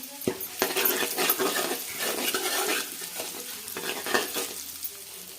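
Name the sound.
ground spice paste sautéing in hot oil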